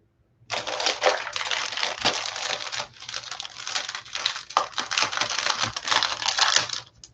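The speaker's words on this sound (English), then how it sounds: "Sorry for the crinkling." Plastic packaging around a kit of horse-themed vintage paper ephemera crinkles up close in a dense, irregular crackle that lasts about six and a half seconds, with no one speaking.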